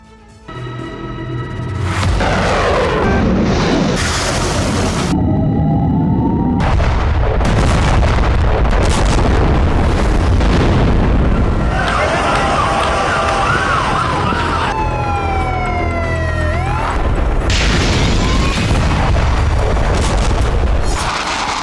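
A ballistic missile attack on Tel Aviv, with loud, continuous booming and rumbling layered with wailing sirens that rise and fall throughout, dense and close.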